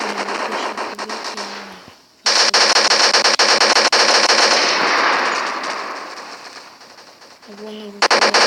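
Loud, dense automatic gunfire from the video game CS:GO rattles in long sustained bursts, with a brief pause and the tail of another burst near the end; a voice speaks quietly under it.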